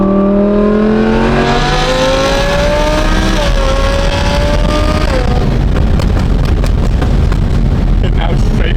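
A loud Audi R8 engine revs hard and climbs through the gears under acceleration, its rising tone shifting and roaring close by, with voices talking over it.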